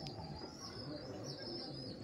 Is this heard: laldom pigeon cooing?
yes